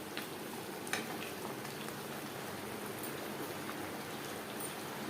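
Aloo chicken curry cooks in a pan over a high to medium flame, giving off a steady, even sizzle and bubbling hiss with occasional faint pops, continuous and moderately quiet throughout.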